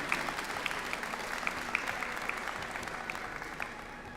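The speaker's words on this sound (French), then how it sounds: "On va pouvoir les applaudir une dernière fois, Karina et Dylan." Applause from an audience at the Japan Expo stage after a Nintendo Switch 1-2-Switch challenge, steady moderate clapping with a few sharper individual claps standing out, at a fairly distant level.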